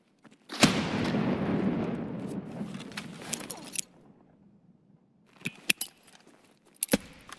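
A grenade goes off in the shooter game Escape From Tarkov: one loud, sudden blast that rumbles and fades over about three seconds. Scattered sharp clicks and clatters follow after a short quiet gap.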